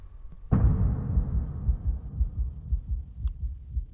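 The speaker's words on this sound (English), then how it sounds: "Heartbeats." Heartbeat sound effect from the game Pathologic, a deep low thumping pulse that starts abruptly and repeats in a steady rhythm under a faint high steady tone, fairly close and alone.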